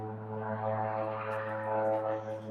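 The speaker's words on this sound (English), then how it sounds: "Sounds like there's a freaking World War II dogfight going on out there." A propeller airplane, loud enough to bring up thoughts of a World War II warbird, drones overhead as a steady harmonic engine hum that swells slightly and holds throughout, with no talking.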